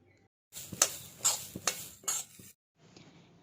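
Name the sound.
roasting sesame seeds in a pan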